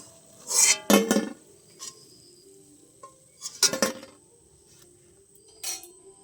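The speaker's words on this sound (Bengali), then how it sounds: "এবার আমি তুলে নেব, এরকম করে তেল ঝরিয়ে তুলে নেব।" Crispy fried potato snacks are lifted out of hot oil with a metal utensil, producing three separate clusters of sharp clinks and scrapes against the pan, with quiet pauses between them.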